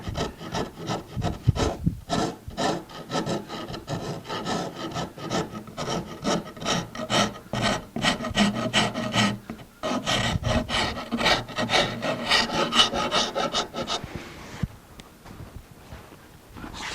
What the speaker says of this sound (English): Rasp is faster.